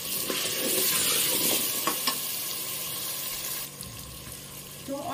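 Whole baby potatoes frying in hot oil for a mixed vegetable dish, a steady hissing sizzle with a few sharp stirring clicks, close and unaccompanied by speech.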